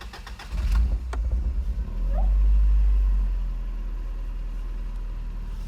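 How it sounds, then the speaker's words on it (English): A Toyota Altezza engine cranks and catches after a fuel pump replacement, then settles into a low steady idle, preceded by a few clicks and knocks. "I will go ahead and start the car to show you guys how a good fuel pump sounds"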